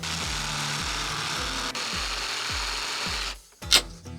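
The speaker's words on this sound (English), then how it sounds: "I have a proper jigsaw." Cordless jigsaw cutting through wood, a close buzzing saw with a steady rhythmic pulse that stops abruptly, followed by a short clatter.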